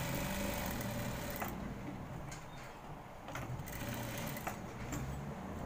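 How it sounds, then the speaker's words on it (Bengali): Sewing machine stitching the shoulder seam of a school uniform shirt, a steady close mechanical whir of rapid needle strokes with short pauses and clicks as the fabric is adjusted. "তারপর এখান থেকে সেলাইটা শুরু করতে হবে"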